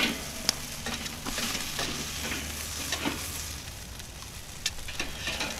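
Steak searing on a hot grill grate over the sear zone, a steady crackling sizzle with occasional sharper pops and spits, close up and without talk.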